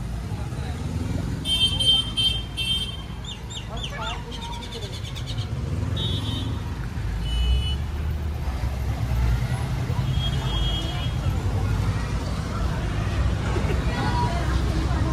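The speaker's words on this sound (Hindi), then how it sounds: "और ट्रैफिक देखो कितना ज्यादा हो गया" Steady road traffic rumble on a crowded village street in Aya Nagar, Delhi, with engines idling and passing throughout, some high horn-like tones early on, and a general hubbub of background voices underneath.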